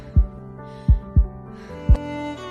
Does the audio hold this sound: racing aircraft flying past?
no